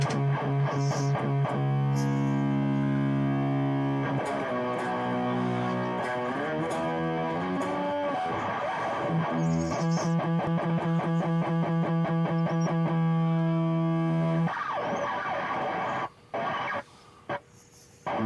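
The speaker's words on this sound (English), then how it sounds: "It's because you got a lot of distortion there," Heavily distorted electric guitar played through an effects rig, sustained overdriven chords and note runs ringing loudly for most of the stretch, then breaking into choppy bursts with brief silences near the end.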